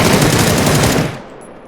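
Sustained automatic gunfire from a PUBG match, a loud, dense burst of rapid shots lasting about a second before cutting off into a short decaying tail.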